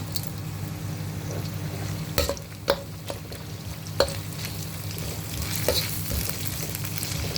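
Whole spices sizzle in a cooking pot for biryani while a spoon stirs them, giving a steady frying hiss broken by a few sharp scrapes and knocks against the pot, close up and without talk.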